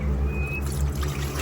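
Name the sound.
pouring water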